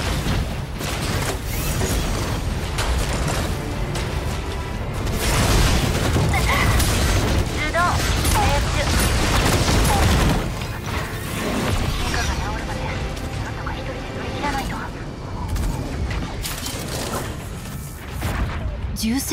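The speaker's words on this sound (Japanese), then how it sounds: "銃声が聞こえた。" Gunfire and mechanical combat in the Super Mecha League video game, with booming impacts and clanking mechanisms over a dense, continuous wall of game sound, while voices talk throughout.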